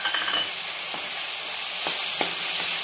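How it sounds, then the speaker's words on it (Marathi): Tomato pieces sautéing in hot oil in a pan for dhaba-style mixed dal tadka, giving a steady close sizzle with a few soft stirring scrapes and no talking. "चांगलं तेल सुटेपर्यंत आपण ह्याला परतून घेणार"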